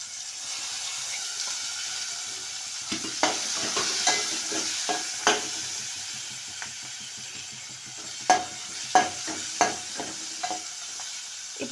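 Onion and tomato fry in a pan with spice powder, a soft steady sizzle that is joined partway through by sharp, spaced spatula knocks and stirring scrapes against the pan.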